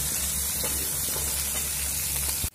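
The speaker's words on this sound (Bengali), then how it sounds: "আলুগুলো আমার লাল করে ভাজা হয়ে গেছে।" Potatoes frying in oil with salt and turmeric over a medium flame give a steady close sizzle and hiss that cuts off abruptly at the end.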